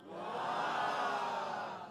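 An audience at a Christmas stage show calls out together in one swelling collective shout, loud and sustained for about two seconds before fading, with no single voice standing out.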